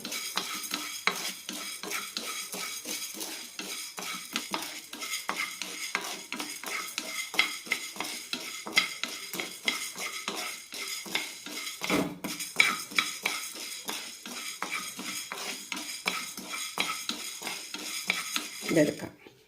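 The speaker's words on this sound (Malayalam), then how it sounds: "ഇനി ഇതിലേക്ക് കാൽ കപ്പ് വെള്ളം ഉഴുന്നിടാം ഇതും ചെറുതായി ചോക്കുന്നവരെ ഒന്ന് വറുത്തെടുക്കാം" Urad dal dry roasting in a pan for peanut idli podi, with steady rhythmic scraping and stirring of a spoon against metal and a faint crackle, close and continuous with no talk.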